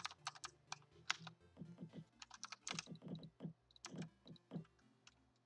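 A computer keyboard clatters nearby during a Roblox Skywars gaming session, with quick irregular bursts of key clicks and faint background tones behind them.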